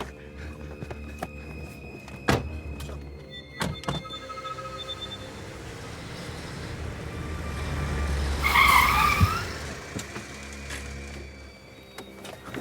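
A car pulls away with a rising engine and tire screech, the skid peaking loud and close after a few scattered thumps and clunks like doors shutting.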